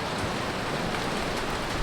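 Hailstones falling in a storm near a boat make a dense, steady patter and roar of impacts, close and continuous, and no voices are heard.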